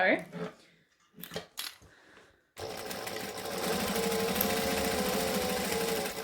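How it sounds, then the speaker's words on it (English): After a few brief handling clicks and a short voice, a sewing machine starts up close and runs continuously, stitching the base of a fabric Hippie Van bag. "I'm actually going to stitch the base first"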